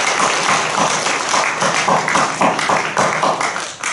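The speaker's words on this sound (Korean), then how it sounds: "다시 한번 큰 박수 부탁드립니다" A church congregation at a Wednesday worship service applauds a pastor after his sermon, with loud, sustained clapping from many hands in a steady, dense patter.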